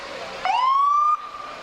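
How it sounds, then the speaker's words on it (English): A Glen Carbon ambulance siren at a Halloween parade gives one short, loud rising-then-steady wail of under a second, close by, with quiet street ambience before and after. "This is, I think, a Glen Carbon ambulance."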